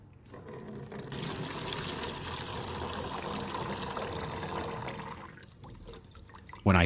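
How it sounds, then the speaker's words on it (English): Clean water poured into the small filler holes of an old battery's cells, a steady splashing trickle running for about five seconds before tapering off, followed by a brief louder knock at the end. "After draining all the old liquid, I poured clean water into each small hole in the battery."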